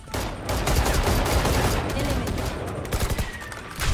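Dense, continuous gunfire from the video game Valorant, overlapping rapid shots rattling for the whole stretch with a few sharper bursts near the end, loud and close.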